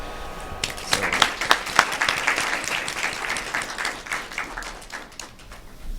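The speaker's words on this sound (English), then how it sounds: "I'd actually like everyone to give a round of applause for everyone here" An audience at the Caribbean Youth Summit 2014 in Philadelphia breaks into applause, beginning with a few sharp, distinct claps and building into steady clapping that gradually thins and fades.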